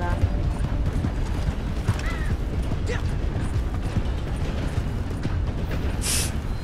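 A horse in Red Dead Online clip-clops along at a steady pace, its hooves blending into dense game ambience. A brief whinny-like cry sounds near the end.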